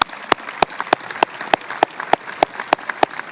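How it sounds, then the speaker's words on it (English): Applause from a graduation audience, sharp regular claps standing out over a softer wash of crowd clapping, steady throughout. "Let's give them all a big round of applause."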